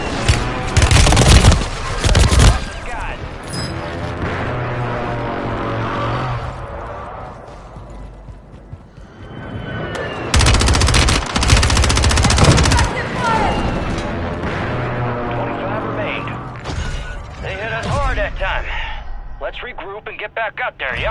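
Bursts of SMG gunfire in Call of Duty Warzone during a Season 5 Reloaded solo Resurgence match, loud rapid volleys in two main clusters with quieter game noise and a voice speaking between them.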